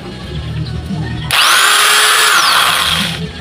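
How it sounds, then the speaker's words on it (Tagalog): A REAIM heavy-duty 1000W angle grinder switches on abruptly and runs unloaded with a loud, high-pitched whine that stays steady for a couple of seconds before easing off, close by with no talking. "Yung in-order natin sa Shopee na angle grinder"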